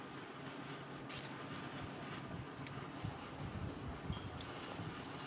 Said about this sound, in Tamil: என்ன காற்று இங்கே அடிக்குது